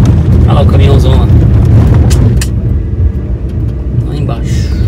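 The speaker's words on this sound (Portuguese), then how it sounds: "Olha lá o caminhãozão lá." A large truck passes on a road in Portugal with a loud, heavy rumble that swells and then eases slightly, as people talk over it.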